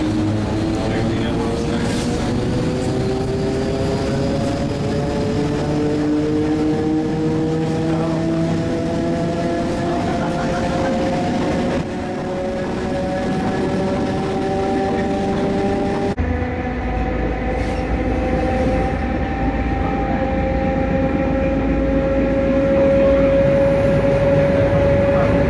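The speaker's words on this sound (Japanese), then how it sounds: "その区間をこのモーターの音と一緒にお楽しみください" Rising and falling whine of the nose-suspended traction motor on an M262 diesel-electric railcar over continuous rumbling wheel noise, loud and close, with pitch sweeping upward as the train accelerates, on a weekend special near Prague.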